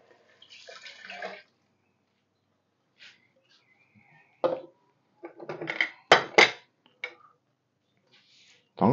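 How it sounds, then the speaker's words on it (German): Broth poured into a pot of browned short ribs and dark sauce, heard as a few separate splashy pours and trickles with quiet gaps between them, close and fairly loud. "Und jetzt kommt die Brühe dazu."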